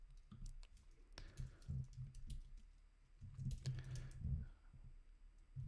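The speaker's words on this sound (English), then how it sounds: "for this kind of code I prefer to actually type it out just to get a feel for how it works" Soft, close keystrokes typing code on a computer keyboard, coming in uneven clustered bursts with brief pauses, fairly quiet over a low room hum.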